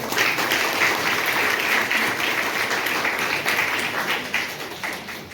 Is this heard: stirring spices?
no